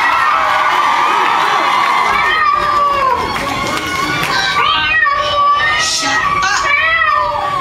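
Concert crowd at a show in Cleveland screams and cheers loudly and continuously, a roaring wall of high-pitched shouting voices from a large audience.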